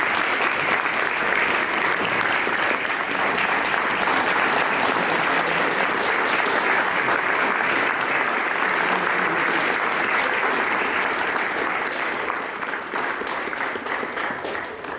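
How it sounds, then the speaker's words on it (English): An audience at a Holocaust Remembrance ceremony on an Air Force base claps in sustained, dense applause for a cantor, steady and loud for the whole stretch with no speech over it. "I would just like to recognize Cantor Hauben with a big round of applause."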